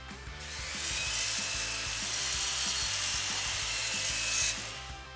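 Power saw cutting a wooden baseboard down to a 500 mm length, one continuous bright rasping cut with a steady motor hum underneath, close and fairly loud with no talk.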